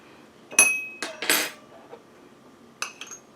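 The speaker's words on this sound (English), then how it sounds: "we're going to take a big spoon and we're going to scoop down into the mascarpone" A big spoon scoops mascarpone from a dish for a cantaloupe dessert. Several close, sharp clinks and scrapes of metal on the dish come in short clusters with pauses between them, and there is no talk.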